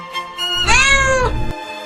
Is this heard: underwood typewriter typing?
no